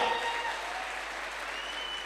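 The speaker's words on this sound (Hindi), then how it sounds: "एक बार दमदार ताली होनी चाहिए, जोरदार" Audience applause at a Safe Shop recognition event, a steady wash of many hands clapping at moderate, fairly distant level, continuous and even throughout.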